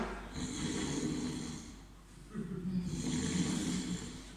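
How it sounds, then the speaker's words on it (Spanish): Snoring from people who have fallen asleep during a night of prayer, two long, steady rasping breaths with a pause between, close and fairly loud with no talk over it. "El amén que se oía era el ronquido."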